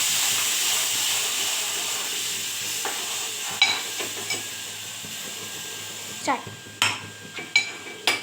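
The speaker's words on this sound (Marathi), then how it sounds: "आपला हा मसाला टाकून घेतला वाटणाचा परतून घेऊया त्याला" Ground masala paste fries in a pan with a soft steady sizzle and hiss, later broken by several sharp scraping and clinking strokes of a spoon stirring against the pan.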